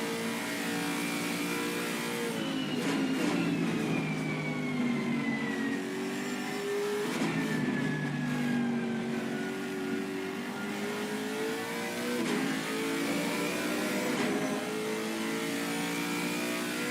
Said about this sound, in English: Slipstream down the straight, pulls out, Junkie Sport eases off the throttle, lets him through nicely